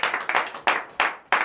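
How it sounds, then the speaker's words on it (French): Several hands clapping in quick rhythmic bursts, a church congregation applauding in time at a morning prayer service in Benin, close and fairly loud. "Donnez l'acclamation à Jésus."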